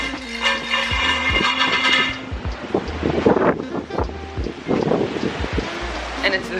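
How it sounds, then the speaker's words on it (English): Strong wind buffets the microphone at a beach in Jamaica, a steady loud rumble with gusts that rise and fall throughout, alongside broadband noise like surf, while a voice talks in stretches. "And it's very windy"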